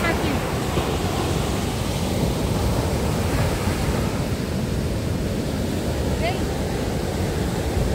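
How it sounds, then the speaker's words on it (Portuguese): Sea waves at Praia do Buraco beach roar in a loud, unbroken wash of surf, close and constant, mixed with wind buffeting the microphone and no clear talking. "Aqui a gente escuta o barulho do mar."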